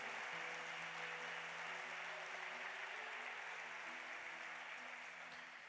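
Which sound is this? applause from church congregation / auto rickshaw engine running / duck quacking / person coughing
applause from church congregation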